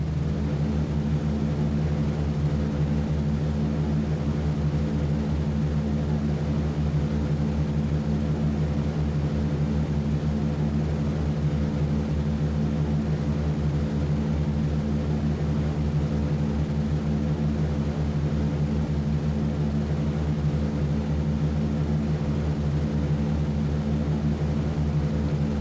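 B-17 bomber engines in a flight game hold a steady, layered propeller drone throughout the takeoff run, constant and unbroken with no voices.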